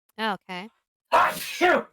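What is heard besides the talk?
sneeze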